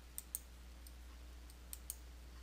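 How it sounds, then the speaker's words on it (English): Mouse button clicks in a QuickBooks Desktop Pro 2023 setup screen: four or five crisp, isolated clicks, close and fairly quiet, with a steady low hum underneath. "click the Next button to continue"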